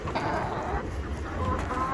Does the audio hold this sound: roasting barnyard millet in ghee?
no